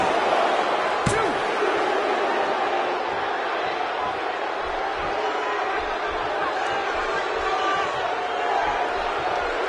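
Steady, loud arena crowd roar from a WWE 2K17 wrestling match, a continuous broadband wash of cheering with a sharp slam-like impact near the start and faint commentary-like voices underneath.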